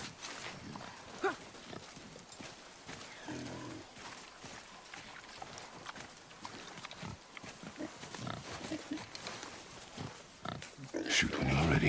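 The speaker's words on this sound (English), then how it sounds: "I knew it was a boar." A wild boar in the God of War video game grunts and snorts amid rustling game ambience, with a louder burst of activity near the end.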